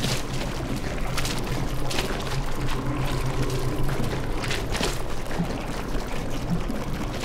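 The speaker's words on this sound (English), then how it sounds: "Let's coat this entire place in speed gel," Speed gel sprayed continuously in Aperture Tag, a wet, pouring gush running steadily throughout with small splashy variations and no pauses.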